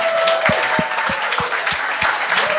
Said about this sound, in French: Un tonnerre d'applaudissements pour Jérémy Beaulieu